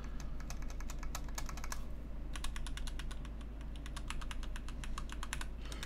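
Mechanical keyboard switches typed on in quick bursts of close, crisp clicks with a very slight rattle, pausing briefly before the typing resumes.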